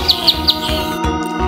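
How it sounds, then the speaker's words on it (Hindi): Chirping of a little bird in a Hindi kids' rhyme: three quick, bright tweets in a row, then a couple more calls, set over a steady musical backing. "चुन चुन करती आई चिड़िया"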